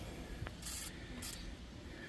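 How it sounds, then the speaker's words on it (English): Two short hissing bursts of WD-40 aerosol sprayed onto the strut spindle of a Toyota Camry, each under half a second, close and fairly quiet, with faint handling noises around them. "now I'm gonna get some WD-40. You spray right here"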